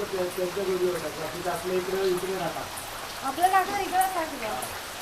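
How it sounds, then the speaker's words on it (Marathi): Heavy rain pouring down steadily in a Konkan village near Rajapur, a continuous wash of drops under clear conversational speech that runs through most of the stretch. "अर्धा तास झाला पाऊस लागतोय तर अजून काय थांबला नाही"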